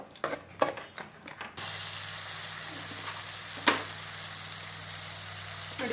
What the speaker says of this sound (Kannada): ಈ ಪುದೀನ ಕೊತ್ತಂಬರಿ ಸೊಪ್ಪೆಲ್ಲ ಎಣ್ಣೆಯಲ್ಲಿ ಚೆನ್ನಾಗಿ ಫ್ರೈ ಆಗಬೇಕು